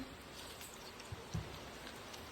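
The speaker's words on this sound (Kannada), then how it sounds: "ಮಳೆ ಪುನಃ ಬಂತಲ್ಲ" Rain falling steadily, a faint, even hiss with a couple of soft drip taps standing out.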